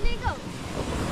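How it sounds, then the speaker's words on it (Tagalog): Big ocean waves surge and splash against the shore, a loud broadband wash with a sharper burst at the start, mixed with wind and a brief voice over the surf. "Ang laki ng tapisak ng alon."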